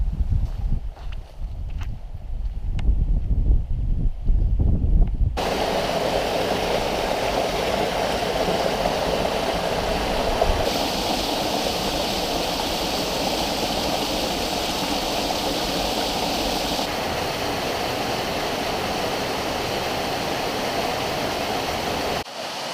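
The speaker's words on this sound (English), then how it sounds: "We have running water with a little bridge behind" Running water of a stream flowing near a small bridge in the Lake District woods around Thirmere, a steady close rushing wash that continues unbroken after some brief handling bumps at the start.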